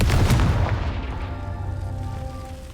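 The Confringo blasting spell goes off in the Hogwarts Legacy video game with a heavy booming explosion that hits hard at the start and then trails into a long, fading rumble with a faint ringing tail.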